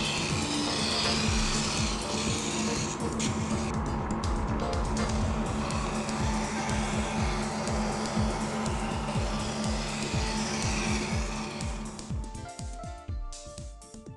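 The rotating stone of a Smartgrind knife sharpener grinds against a knife blade, a continuous rough whirring rasp with rapid rhythmic scraping. It stays loud and close, then softens and turns more intermittent near the end.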